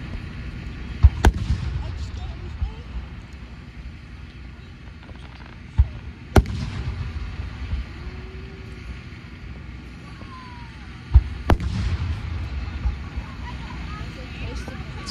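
Large aerial firework shells at a big display in Oshkosh, Wisconsin, bursting with three deep, heavy booms spaced several seconds apart over a steady rumble of wind and crowd, with voices talking in the background.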